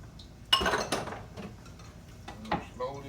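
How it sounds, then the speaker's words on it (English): Egg whites being folded into corn fritter batter, with a spoon clinking against the bowl, a sharp knock early on, then softer scraping and a few faint clinks, close and fairly quiet. "we're gonna fold these egg whites in here"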